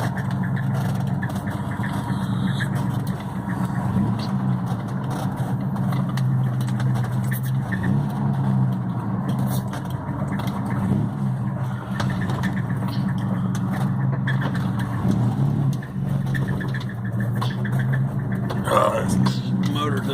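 A Chevy small-block 305 V8 idles roughly in a steady, loud, low rumble with an uneven, lumpy beat that runs throughout, and voices talk over it.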